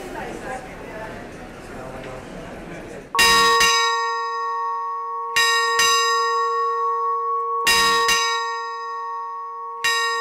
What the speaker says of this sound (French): Le rituel de la cloche, qui va se répéter 6 fois au cours du voyage, est là pour rappeler aux passagers